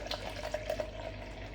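A short stream of water pouring and splashing into a shaker, steady and close, with faint gurgling bubbles and no voices.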